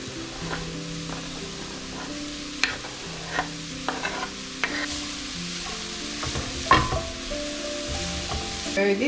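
Chilli con carne meat sizzles steadily in a frying pan over a gas flame, with repeated scrapes and clicks of a spoon stirring it through the fat and spices.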